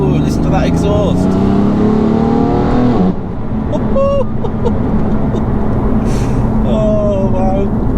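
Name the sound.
BMW M4 F82 exhaust revving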